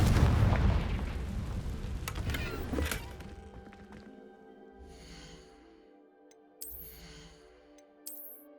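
The Confringo fire spell in the video game Hogwarts Legacy bursts with a loud, roaring blast that fades over a few seconds into quieter ambience, followed by a couple of faint soft thumps.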